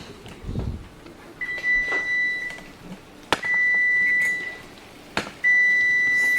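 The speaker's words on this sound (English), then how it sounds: "still making the beeping sound" A kitchen appliance, finished cooking drumsticks, sounds three separate sustained electronic beeps, each a steady tone lasting about a second, spaced apart amid quiet room noise.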